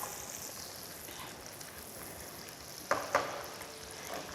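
Potatoes sautéing in butter or oil in a pan make a quiet, continuous sizzle with a couple of brief scraping clatters near the end, close up and with no talk.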